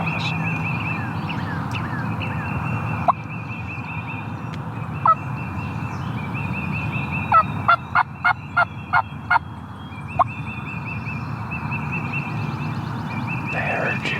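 Wild turkey gobblers calling during a Georgia turkey hunt, a run of sharp repeated gobbles and calls in quick succession midway, plus a few isolated bursts, over steady outdoor background noise.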